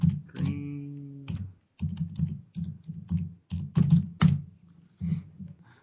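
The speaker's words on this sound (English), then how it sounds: "bang your keyboard harder there" Computer keyboard typed hard and fast, with loud clacking keystrokes in irregular bursts and brief pauses, close to the microphone, with no talk over it.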